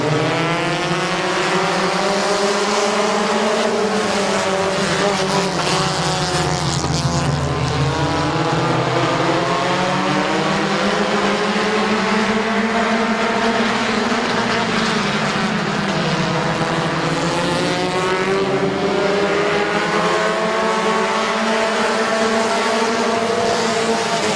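Compact race cars take the green flag off turn four at the start of a 20-lap feature at Midvale Speedway, a loud, continuous pack of engines droning and rising and falling in pitch.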